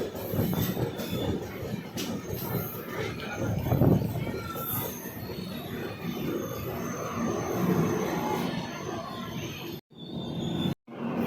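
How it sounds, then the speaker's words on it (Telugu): A passenger train rolls along the platform at Annavaram station, a steady loud rumble of wagons with clattering wheels and squeals, crowd voices mixed in, continuous for about ten seconds before two brief cutouts. "ఇప్పుడు 2 మీద కదా ట్రైన్ వస్తుంది అనుకుంటా"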